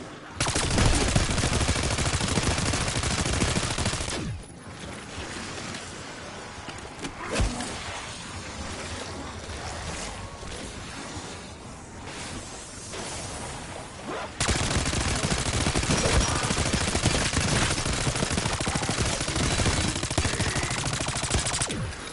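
Call of Duty Black Ops 6 gunfire pours out in loud, dense automatic bursts: sustained rattling volleys at the start and end, with a quieter stretch of scattered shots and noise between them.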